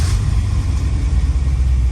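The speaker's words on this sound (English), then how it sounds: "there's your cold start" A 1971 Aston Martin DBS V8 cold starts, its engine settling into a loud, close, deep rumbling idle with a slight uneven pulse.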